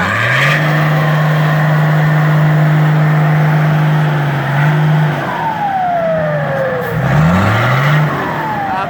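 With a front wheel sunk in mud, a car engine revs hard, holding a loud sustained tone before the pitch swoops up and down in repeated bursts of throttle.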